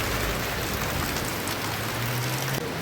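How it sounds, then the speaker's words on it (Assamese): Steady rain falls as a dense, even hiss during a night roadside stop outside a shop, constant and loud without a break. "এতিয়া মানে আমি আহি অলপ পাওঁহে আকৌ বৰষুণ ষ্টাৰ্ট হয়"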